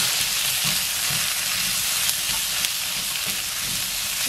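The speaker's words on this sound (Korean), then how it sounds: "햄도 좀 많이 볶아주겠습니다." Vienna sausage ham and half-cooked onion stir-fry in a hot pan, giving a loud, continuous sizzle with soft scraping and stirring sounds underneath and no one talking.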